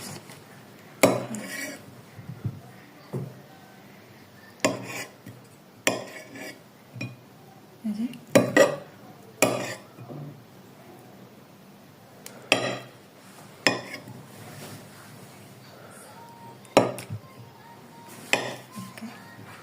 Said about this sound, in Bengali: এই যে এই ডিমটা আমি কেটে নেব